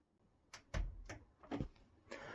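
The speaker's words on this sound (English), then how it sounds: "Now all we need to do is simply place that door on top of the door jig." A wardrobe door is set down on top of a door jig, giving several dull knocks and clatters close by, with a heavier thump near the start and a few lighter bumps after.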